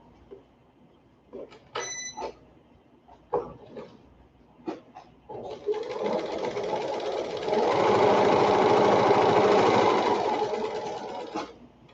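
Sewing machine stitching fabric pieces: a few short clicks and handling noises, then a sustained whirring run of stitching for several seconds that stops abruptly, close by and fairly quiet.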